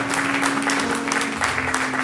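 A church congregation claps together at an anniversary service, a dense, continuous wash of hand claps filling the room, with a sustained musical tone underneath.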